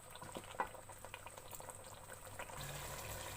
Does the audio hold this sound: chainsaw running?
no